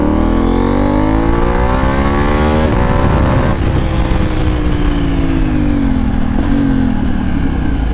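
A KTM Duke 790 motorcycle pulls hard in second gear from around 3000 rpm, its engine note climbing loudly and steadily as the throttle is opened, close by with no talk over it.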